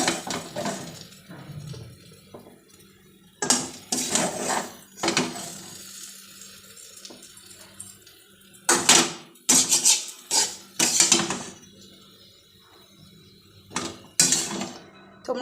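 Jackfruit seed vorta being scooped out of a pan for serving, with a run of sharp spoon-on-pan clinks and scrapes in separate bursts against a quiet background.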